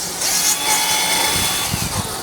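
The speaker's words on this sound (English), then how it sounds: "drill a hole right in the top on the lid." A power drill whirs steadily for a couple of seconds boring a hole through a plastic soda bottle lid, a high buzzing grind with some rubbing and low knocks toward the end.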